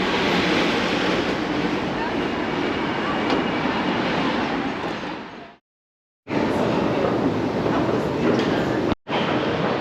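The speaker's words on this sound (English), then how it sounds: "this is us in the Chen Clan metro station" Loud, steady rushing roar inside the Chen Clan metro station in Guangzhou, like a train moving through, with two abrupt cuts to silence partway through.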